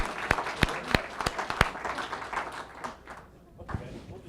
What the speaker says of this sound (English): How about a round of applause for that working?